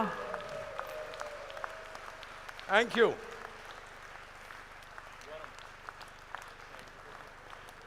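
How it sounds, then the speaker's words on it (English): Applause from a large audience at a business conference session in Delhi, a steady, moderately loud wash of clapping sustained throughout while someone speaks over it. "raising their hands up in the air and giving a thunderous round of applause"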